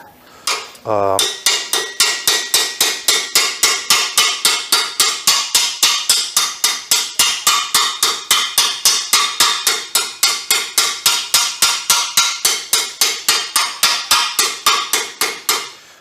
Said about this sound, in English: For this, I'll start with a ball peen.